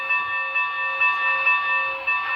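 Sound system of a BLI Paragon 4 Union Pacific FEF3 model steam locomotive sounding its bell, a steady ringing tone repeating in even strokes, held continuously and alone with no talk.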